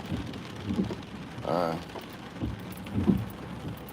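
Steady rain patters on a car while driving on bumpy roads in the Smoky Mountains, a constant wash of drops with occasional low thumps from the road and a brief voice over it.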